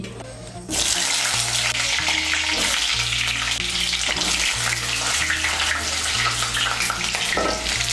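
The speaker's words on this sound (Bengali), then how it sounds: "এর মধ্যে আমি পটলগুলো ভেজে নেব।" Three hundred grams of lightly peeled, chopped pointed gourd (potol) pieces frying in oil, a loud, steady sizzle that bursts in abruptly after a quieter moment and keeps going without a break.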